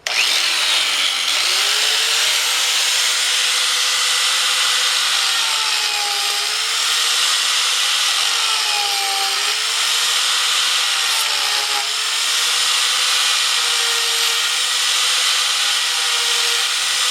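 A Graff SpeedCutter grinder disc tears through wood with a loud, continuous abrasive whine. Its pitch rises and dips in slow waves as the cutter bites into the workpiece and eases off, with no pauses.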